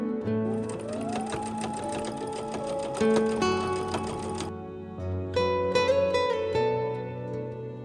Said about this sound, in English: So she is spending her afternoon sewing.